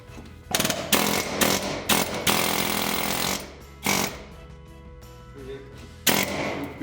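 A power tool grinds old mortar out of brick joints during repointing, sounding in loud harsh bursts that start and stop several times, with short quieter gaps between them.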